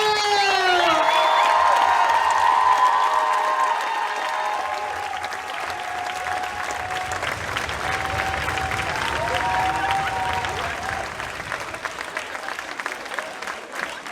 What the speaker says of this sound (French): applaudir très très très très fort